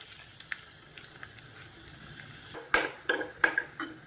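Chopped small shallots frying in hot oil for a ginger curry, with a faint steady hiss that gives way to several sharp clinks and scrapes of a spoon stirring against the pan in the last second and a half.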